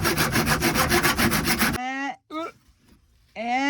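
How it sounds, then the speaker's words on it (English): A hand saw cuts through the wooden end of a bed in a van, with fast rhythmic rasping strokes close up that stop abruptly, followed by a few words of speech. "I actually chopped off the very end of my bed"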